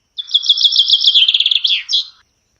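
A bird chirps in a quick, bright run of high notes for about two seconds, close and clear, with no other sound around it.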